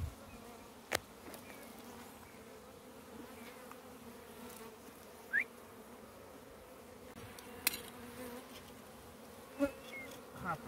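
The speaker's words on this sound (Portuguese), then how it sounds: "Vou tirar as abelhas de cima." Italian honey bees buzz around a honeycomb as it is worked, a steady soft drone with occasional individual bees zipping close past, fairly quiet and alone without talk.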